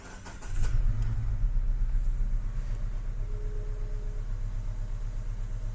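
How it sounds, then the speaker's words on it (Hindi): A car's engine is cranked with the self-starter by pressing the start button with a foot on the brake, then catches and settles into a steady, close, continuous running hum with no talk. "अभी हम सेल्फ मारेंगे।"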